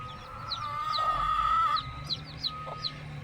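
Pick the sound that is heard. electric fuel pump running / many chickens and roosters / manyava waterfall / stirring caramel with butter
many chickens and roosters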